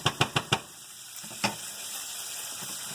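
Steaks frying in butter on a hot stove, a steady soft sizzle opened by four quick taps and one later knock, heard close and fairly quiet.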